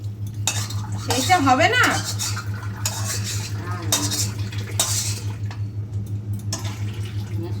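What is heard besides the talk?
stirring and cups while making tea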